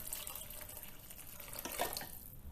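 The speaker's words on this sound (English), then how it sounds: "add in some hot water, lot of it" Hot water streams from a tap or kettle into a soup pot of beans, pasta and vegetables, a quiet continuous splashing rush with a brief brighter gurgle near the end.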